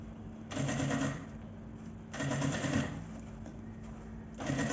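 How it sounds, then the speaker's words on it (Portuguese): Sewing machine stitching around the edge of a bag, running in three bursts of rapid steady whirring separated by short pauses, fairly close and moderately loud. "eu vou costurar aqui em toda a volta"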